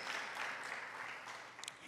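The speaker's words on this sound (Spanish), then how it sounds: "Dale fuerte ese aplauso a nuestro pastor" A church congregation claps steadily for their pastor in a dense, continuous wash of applause that stays fairly faint and distant throughout.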